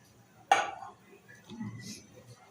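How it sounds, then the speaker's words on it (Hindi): Vegetables go into a pot for a vegetable corn soup with one sharp metallic clink of a utensil, followed by quiet soft rustling and a faint clatter. "मैं सब्जियां इसमें डालती हूँ"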